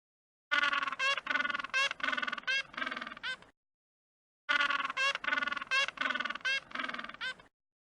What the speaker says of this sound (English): Penguin.